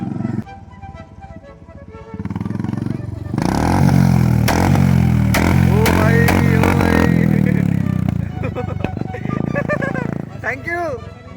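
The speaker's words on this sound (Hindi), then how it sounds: "यहाँ पे कुछ तो क्रेजी बाइक आ रहा है, इसको बोलते रेव करना है।" A motorcycle on a street revs hard in loud repeated bursts, roaring up and dropping back, with someone talking before and after the engine noise.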